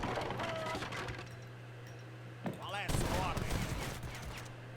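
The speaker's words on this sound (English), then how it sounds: "Dragoons are just getting destroyed by organ guns." Organ guns firing in a game of Age of Empires III, a rapid rattling fusillade of volley shots with clattering battle noise and a steady hum underneath, loud and continuous through the clip.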